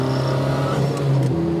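A Cyan Racing Volvo P1800 restomod, a 1960s coupe rebuilt with modern running gear, its engine holding a steady loud droning note with a small pitch shift near the end, close and alone.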